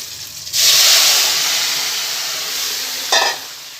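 A loud burst of sizzling as chopped bottle gourd hits hot oil, settling into a steady frying hiss, with a brief stir or scrape near the end.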